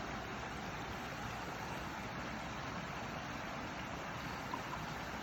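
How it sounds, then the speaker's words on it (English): A tiny rock waterfall spills water into a small pool beneath a bridge on a woodland walk, giving a steady, broadband rushing and splashing that holds constant throughout with no voices. "there's a tiny little rock waterfall, just making all that noise, and it brings the water down"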